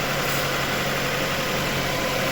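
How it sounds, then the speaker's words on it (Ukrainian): A fully cold VAZ 2109 engine, freshly rebuilt after cylinder head repair, idles steadily with a dense, even mechanical clatter and hum, close by and unchanging throughout. "Ось так двигун працює повністю холодний"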